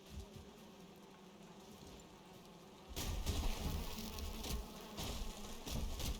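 Bees from a smashed beehive in the video game Valheim buzzing in a steady drone, growing suddenly louder and busier halfway through with patter-like clicks mixed in.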